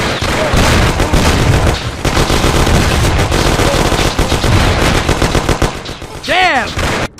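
Machine gun fire in a video game gangster shootout: dense, loud rapid bursts of automatic gunfire with scattered shots, ending in a whistling ricochet-like sweep.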